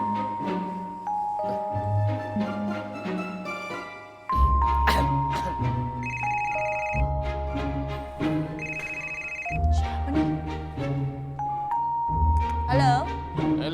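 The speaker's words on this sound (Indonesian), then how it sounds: "Sekarang telepon Bu Rika." A telephone rings repeatedly in a tonal, electronic ringtone pattern during a call, with music and voices underneath.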